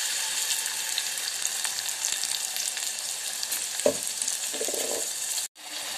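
A ground masala paste hits hot oil with onion already in the pan for a Maharashtrian masvadi dish, giving a steady, close hiss and sizzle with a couple of brief stirring knocks before a short cut near the end.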